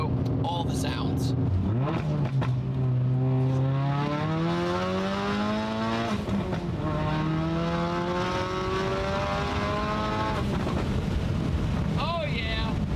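A big-turbo Ford Focus RS with a turbo smart wastegate revs up and down in sweeping climbs, its engine note rising and falling under wind noise, while people talk over it.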